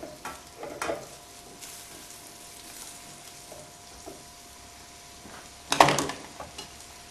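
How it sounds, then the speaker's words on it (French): Onion and garlic sweat gently in a pan, an early step toward aubergine caviar: a soft, steady sizzle runs throughout, broken by a brief clatter of a utensil against the pan near the end. "Nous laissons rissoler un petit instant"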